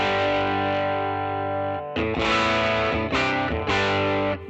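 Electric guitar played through a simulated 1957 Fender Deluxe amp, a sustained distorted chord ringing out, then three short strummed bursts after a brief gap, with effects and slight chorus.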